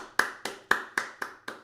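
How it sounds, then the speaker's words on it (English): Six evenly spaced hand claps, sharp and fairly close, ringing out one after another at a steady rhythm with nothing else heard. "Applaud the man."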